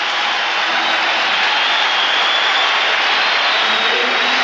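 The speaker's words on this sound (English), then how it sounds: "Listen to the crowd support for Boston Celtics" Arena crowd at an NBA Finals basketball game between the Lakers and Celtics, Boston fans roaring in a dense, steady wash of cheering and clapping that holds loud throughout with no break.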